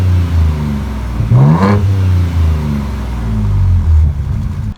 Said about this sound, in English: two bazooka-sized exhaust pipes for the hot V6, and they give it a really nice raspy exhaust note.